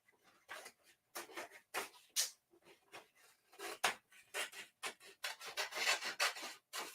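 Scissors or a blade trimming the paper edges of a sublimation transfer for a T-shirt: quiet, close rasping snips and rubbing strokes in short irregular bursts.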